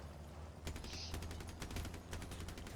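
Weapon fire in the vehicle combat game Crossout: a fast burst of sharp repeated shots after a short quiet start, steady and fairly loud over a low engine-like hum.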